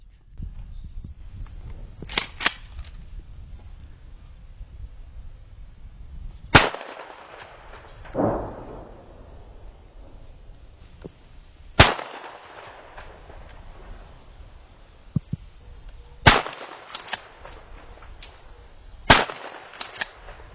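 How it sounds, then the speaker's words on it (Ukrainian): Sharp shotgun blasts fired at a drone ring out one at a time with long pauses between, about six shots, each loud and crisp against a quiet outdoor background in ruined Pokrovsk. "Після кількох пострілів з рушниці безпілотник загрози вже не становить"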